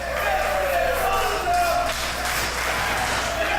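Wrestling crowd in Saskatoon roaring and yelling in a sustained wall of voices, with shouts rising above the steady cheering.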